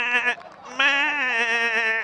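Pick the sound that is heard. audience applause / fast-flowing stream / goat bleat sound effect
goat bleat sound effect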